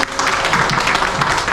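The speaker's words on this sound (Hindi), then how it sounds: "यस कम्पनीका फाउन्डर डाक्टर लिम सियोजिनको लागि प्लिज एक जोरदार तालीको पछि गर्न चाहन्छु" An audience at a company health information gathering applauds loudly, a thick continuous wash of many clapping hands filling the short stretch without pause.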